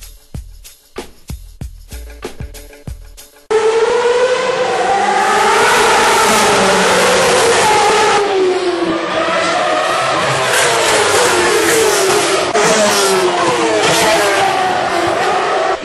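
Formula 1 cars roar around the Marina Bay Street Circuit in Singapore, a loud, sustained engine scream with rising and falling pitch that follows a few seconds of sharp clicks.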